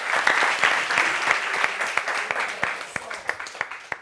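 Studio audience applause at the close of a talk-show discussion on workplace sexual harassment, steady clapping that thins into scattered individual claps, with voices faintly underneath.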